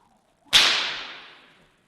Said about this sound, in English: I just want to let you hear the noise that it makes when you crack a whip.